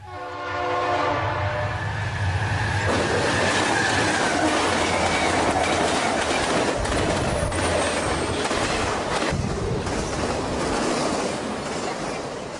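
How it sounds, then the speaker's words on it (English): A Santa Fe intermodal freight train led by two red and silver warbonnet locomotives in Garry's Mod sounds its horn, then roars past with heavy rumbling, clattering wheels and occasional squeals, loud and close before easing slightly. "we caught a hotshot intermodal with a pair of red and silver war bonnets in the lead"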